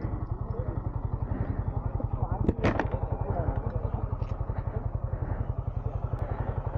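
A motorbike engine idles with a steady, rapid thumping putter, close by in the parking lot of Wonderla amusement park in Bangalore, with a brief clatter partway through.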